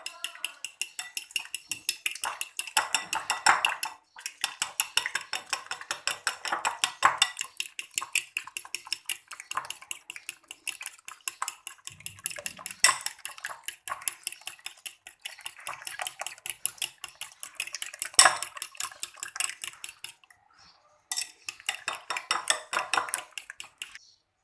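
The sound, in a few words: beating eggs in a bowl for Spanish omelette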